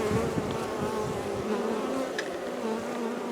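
Honeybees buzzing steadily at an open hive during spring sugar feeding, a dense close swarm hum that holds constant throughout with no talking.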